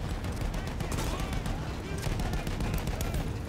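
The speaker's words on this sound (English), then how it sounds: "Take down that machine gun." Machine gun fire in the Battlefield 1 campaign rattles in dense, rapid bursts amid layered gunfire and explosions of battle, loud and unbroken throughout.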